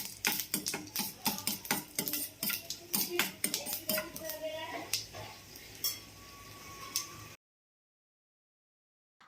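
Chana dal, mustard seeds and cumin sauté in hot oil in a pan, giving a rapid series of sharp metallic scrapes and clinks from stirring over a soft sizzle, close and moderately loud, before stopping abruptly into silence.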